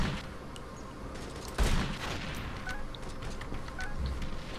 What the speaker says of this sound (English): Incendiary rounds are pretty great.